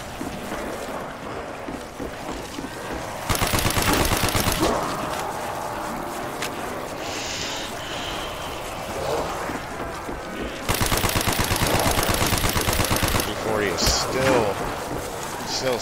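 Sustained bursts of automatic gunfire aimed at zombies in Black Ops Zombies on the Kino Der Toten map, two long, loud, dense volleys separated by quieter game noise, with a voice talking over the action.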